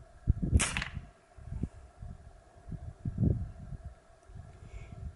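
Single sharp airgun shot fired outdoors in an open field, a crisp crack near the half-second mark, followed by faint wind and handling noise with a softer thump later.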